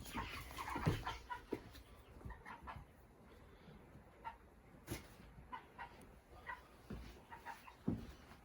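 Four-week-old meat chickens being moved across a yard to an outdoor pen give faint, scattered clucks and peeps at a low level, with soft rustling and a few louder knocks and thumps nearby.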